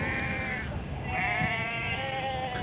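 Sheep bleating outdoors on a farm where a border collie herds them, several wavering drawn-out bleats overlapping, fairly close and loud.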